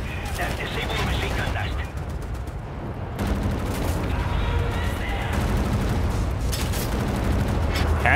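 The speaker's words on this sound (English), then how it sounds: "Now disable the machine gun nest." A machine gun nest in Wolfenstein: The New Order firing continuously, a dense, loud rattle of automatic fire with heavy booming underneath and a brief dip near the start.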